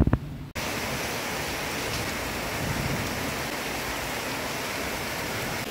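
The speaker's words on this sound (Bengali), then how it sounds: "দেখো জোরে মুষলধারে বৃষ্টি পড়ছে" Heavy monsoon rain pours down steadily outside a window, a dense, constant roar of falling water that fills the whole stretch after a brief quieter moment at the very start, loud and close with no speech.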